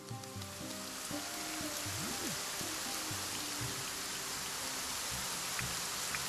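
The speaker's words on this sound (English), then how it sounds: "I will give you rain." Rain falls in the video game Deisim VR, a dense even patter of drops with steady hiss, alongside low game music tones.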